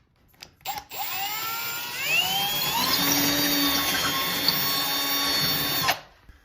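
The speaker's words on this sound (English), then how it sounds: "I'm just drilling a little hole in that" A power drill bores a small hole in bathroom trim while a heater is installed: a couple of short bumps, then a whine that climbs in pitch and holds steady and loud for about four seconds before stopping abruptly.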